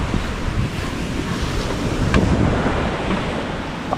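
Ocean waves wash continuously around a moving boat at sea, with steady surf noise and heavy wind buffeting the microphone throughout.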